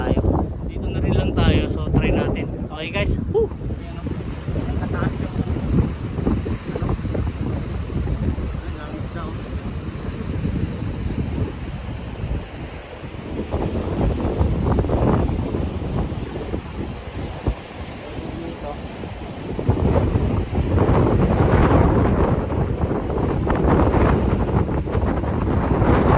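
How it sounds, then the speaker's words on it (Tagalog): Strong gusts of wind on a Saipan fishing shore roar and buffet the microphone in uneven surges, with a brief stretch of talking early on. "So malakas pa rin yung hangin."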